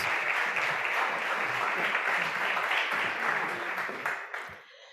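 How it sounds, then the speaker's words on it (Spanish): An audience at a round-table gastronomy talk applauds with steady, dense clapping that tapers off and fades at the end. "un fuerte aplauso para todos ellos"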